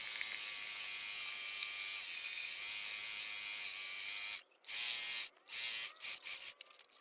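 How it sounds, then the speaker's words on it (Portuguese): Domestic sewing machine running a continuous stitch around a trouser waistband with elastic, a steady buzzing whir up close that stops and restarts in short bursts near the end. "passe essa costura em toda a volta"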